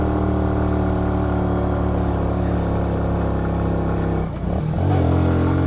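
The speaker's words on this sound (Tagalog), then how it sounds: "Gapang na naman sa Primera yung motor ko." A motorcycle in poor condition labors up a long, steep climb in the Tayak Hills area of Rizal, its engine droning loud and close with steady strain and a brief dip before resuming.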